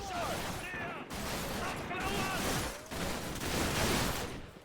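Gunfire from the video game Modern Warfare comes in dense, chaotic bursts with a continuous rattle, loud and busy throughout, while a voice talks over it.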